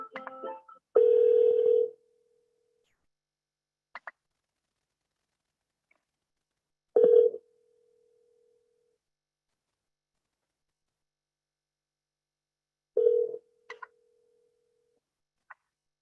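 Phone line tones during a call transfer: three separate steady beeps about six seconds apart, each roughly a second long or shorter, with faint clicks between them and silence around.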